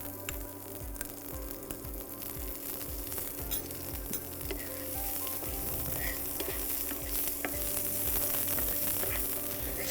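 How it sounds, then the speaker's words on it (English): Onions sautéing in ginger- and green chili-flavored fat over a low flame give a steady close sizzle with faint stirring scrapes, continuous and fairly loud throughout, with no talking. "Saute it well."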